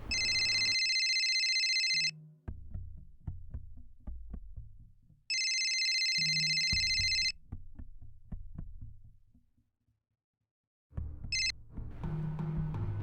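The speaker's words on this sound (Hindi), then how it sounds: "सर बेल जा रही है।" A telephone rings in repeated bursts, a loud electronic trill lasting about two seconds each, separated by quieter gaps with faint handling noises, the third ring cut short before background noise resumes.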